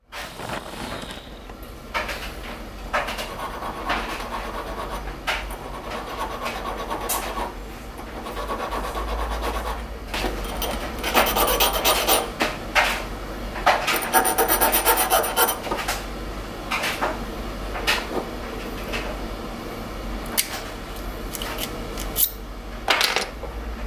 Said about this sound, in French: il me reste l'option de limer les trappes qui sortent encore un peu.